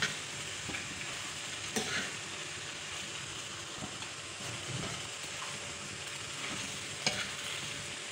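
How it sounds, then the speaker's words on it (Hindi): Macaroni stirred in a hot pan, a continuous sizzle broken by scattered spoon scrapes and a few sharper clinks, close and fairly quiet with no talking. "हम इसको अच्छे से मिक्स कर लेंगे।"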